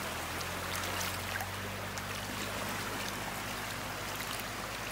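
Ocean surf on a beach in North Naples, Florida rushes and hisses as a steady, broad wash of water with a low hum beneath, continuous and moderately loud.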